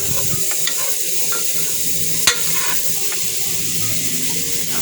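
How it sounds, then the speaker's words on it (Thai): Pork ribs tossed with seasoning in a pot give a steady, loud sizzle with scraping stirs and one sharp clank of the utensil against the pot, close and continuous with no voices. "คลุกเครื่องให้เข้ากับเนื้อหมูเลยนะครับได้หอมๆนะฮะ"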